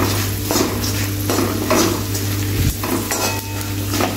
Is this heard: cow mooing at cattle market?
no